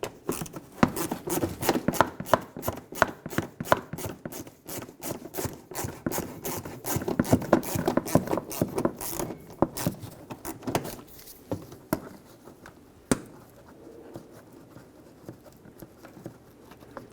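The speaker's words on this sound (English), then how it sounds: "Stick a screwdriver in there and remove it." Phillips head screw being turned out of a 2013-2018 Hyundai Santa Fe bumper cover with a screwdriver, heard as a close, rapid run of small clicking and scraping ticks for about twelve seconds before going quiet, with no talking.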